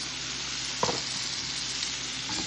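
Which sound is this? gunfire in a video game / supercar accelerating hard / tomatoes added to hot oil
tomatoes added to hot oil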